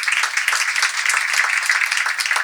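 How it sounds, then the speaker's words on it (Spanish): A crowd claps at a literary book-festival opening in Buenos Aires, a dense and fairly loud burst of applause sustained evenly throughout. "Un aplauso acá a Ezequiel Martínez, de la Fundación El Libro."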